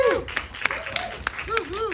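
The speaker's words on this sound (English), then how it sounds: "So the big applause for my friend Donald." An audience at a film Q&A gives scattered, sharp handclaps, fairly close and irregular, while voices talk over them.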